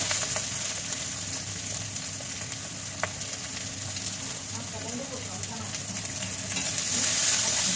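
Panch phoron, green chili and chopped onion sizzle steadily in hot oil in a pan, a continuous close crackling hiss with a brief clink partway through.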